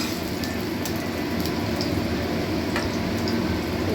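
Food fries in hot oil in a pan with a constant, close sizzle and crackle that stays even for several seconds, with no voices.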